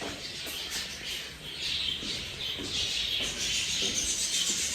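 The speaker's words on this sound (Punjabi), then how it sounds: "ਹੁਣ ਜੀ ਦੇਖੋ ਚਿੜੀਆਂ ਕਿਵੇਂ ਕਿਆ ਕਿਆ ਕਰਦੀ ਹੈ" Sparrows chirping continuously while feeding on scattered grain, a busy, overlapping chatter, with a steady hiss of high-pitched calls and no talking.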